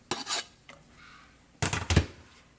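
Garlic being added into a cooking pot for sopita, with two bursts of metal-on-pot scraping and clinking of a utensil, close and fairly loud with a quiet gap between.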